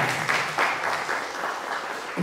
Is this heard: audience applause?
yes